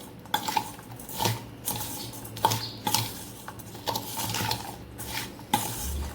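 A spoon working through a bowl of instant raw mango pickle, with repeated clinks and scrapes against the bowl at an uneven, roughly once-a-second rhythm, close and clear, with no voices.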